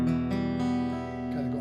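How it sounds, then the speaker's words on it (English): Acoustic guitar strums a minor chord several times in quick succession, close and moderately loud, the ringing strings sustaining between strokes. "minor sounding chord, which sounds like this"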